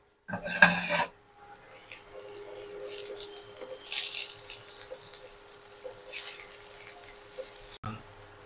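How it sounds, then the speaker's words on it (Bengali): Soft sizzling and rattling of tomato and spices frying in a pan, swelling and fading in a few waves, with a sharp clatter near the start. "টমেটোটাও দিয়ে দিলাম এর সঙ্গে, একটু ভাজা হবে সামান্য"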